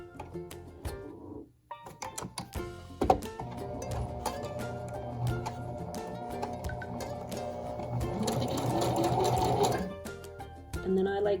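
A sewing machine on zigzag stitch sews a button onto fabric, making loud, close bursts of rapid mechanical whirring and needle clatter separated by brief pauses and small knocks.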